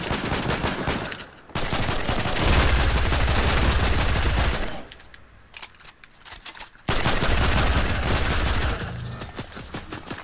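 Gunfire in a video game crossfire: dense, loud volleys of rapid shots in two long bursts, separated by a quieter lull with scattered distant reports.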